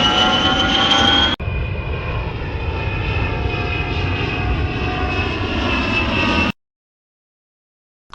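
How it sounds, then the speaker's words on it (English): An aeroplane engine drones in a steady, loud, close roar with a brief cut partway through, then ends abruptly into silence. "Aeroplane."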